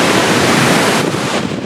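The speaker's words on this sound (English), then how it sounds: "This sick waterfall." An Icelandic waterfall on the Ring Road near Seyðisfjörður, a loud, dense, continuous roar of falling water heard up close with wind buffeting the microphone.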